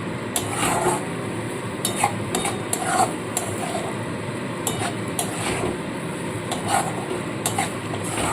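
A spoon stirs mashed bean paste (sim vorta) in a pan, scraping steadily with light clinks of utensil against metal, set against a soft, continuous sizzle.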